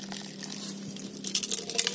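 Water pours onto soil in a cornfield as a soft, uneven gurgle and trickle, with splashier bursts building toward the end; no one speaks.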